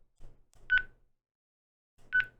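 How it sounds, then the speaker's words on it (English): Two short electronic beeps from a Radioddity FS-T3 radio transceiver, about a second and a half apart, each preceded by faint clicks, in an otherwise quiet room. "now it just beeps"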